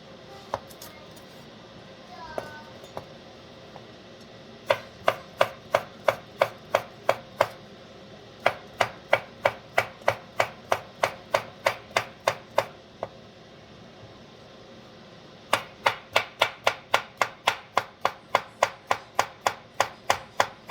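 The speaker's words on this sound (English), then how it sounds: "So I just cut off both ends of it and I cut them in half upward." Knife chops zucchini on a cutting board while a Jamaican-style Sunday dinner is prepared, a long run of quick, crisp, evenly spaced taps in several bursts, close and clear.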